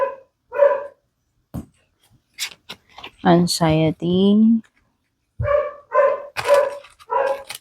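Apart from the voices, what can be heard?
dog barking next door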